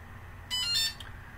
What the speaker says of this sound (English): So you'll hit that confirmation beep from the controller.